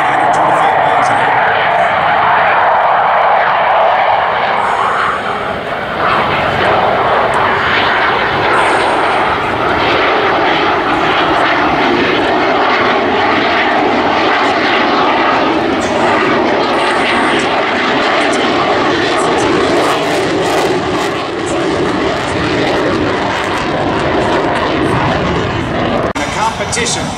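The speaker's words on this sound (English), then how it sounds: "Here comes the Hornets, carrier!" Navy Hornet jet fighters pass low at the Sun N Fun 2012 airshow. Their loud, continuous engine roar swells and lingers for nearly half a minute, and an announcer talks over it throughout.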